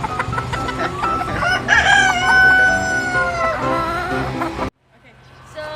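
A chicken crows loudly at a farm coop, a long rising cock-a-doodle-doo over clucking and background talk, then cutting off abruptly to quiet with faint clucks.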